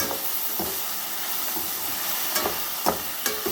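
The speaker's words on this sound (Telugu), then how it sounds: "ఇది కొంచెం మెత్తగా అయ్యేటట్టుగా, కలర్ చేంజ్ అయ్యేటట్టుగా బాగా ఫ్రై చేసుకోండి" Okra frying in a pan for an Andhra-style curry, with a steady loud sizzle under the scrape and clack of a spoon stirring at irregular intervals.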